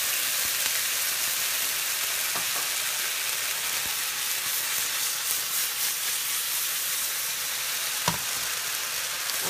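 Wontons in sweet and sour sauce steam and sizzle in a covered pan, a steady close hiss with faint crackles and a few soft clicks, no voices over it.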